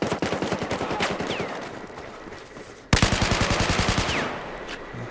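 Rapid automatic rifle fire from a Type 95B-1 in Battlefield 4, two long bursts of evenly spaced sharp shots, loud and close, the second burst starting abruptly after a brief pause.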